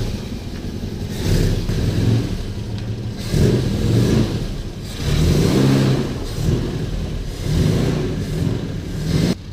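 A barn-find Volvo Amazon engine runs and pulls the car forward, rising in repeated revving surges between idle dips, close and loud with no talk.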